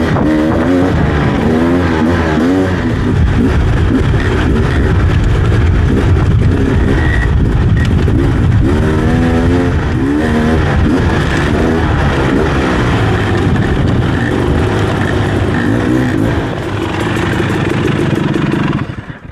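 Off-road two-stroke motorcycle, a Beta 300RR or KTM 300XC, revs loudly and close by, its engine rising and falling in repeated bursts before dropping off at the end.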